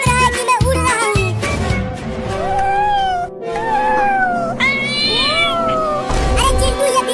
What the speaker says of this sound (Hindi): अरे चिंटू, ये बिल्ली इतना बोल क्यों रही है, वो भी हमारे पास आकर।